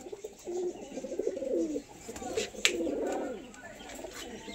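Pigeons kept for sale at a home in Madras coo in low, warbling phrases close by, with faint background noise and a brief sharp click partway through.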